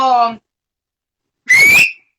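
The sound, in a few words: human whistling to call attention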